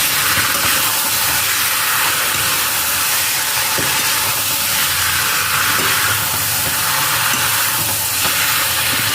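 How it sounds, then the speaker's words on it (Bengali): Chicken curry masala frying hard in a pan while being stirred, a loud, close, continuous hissing sizzle with faint scraping underneath, unbroken and without speech. "ভালো করে এটাকে 15 মিনিটের মতন কষিয়ে নিতে হবে।"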